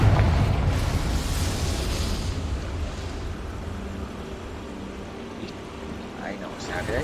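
A Confringo fire spell bursts in Hogwarts Legacy, a loud booming blast at the start that rolls into a long decaying rumble, with a voice speaking over it.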